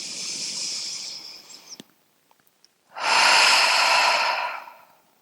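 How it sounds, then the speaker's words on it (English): Two long, deep yoga breaths rush out audibly close to the microphone, a breathy airy exhale, a short pause with faint clicks, then a second strong breath that tapers away. "And exhale all the way out."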